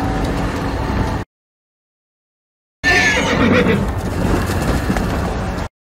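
Donkeys braying in the film Lamb (2021), two loud bursts of harsh whinny-like calls separated by a short silence, with a faint voice underneath.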